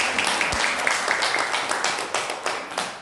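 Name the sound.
applause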